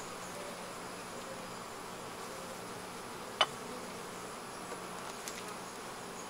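Honeybees around an open hive that may have been poisoned by pesticide, a faint steady buzzing hum throughout, with one brief click near the middle and no talking.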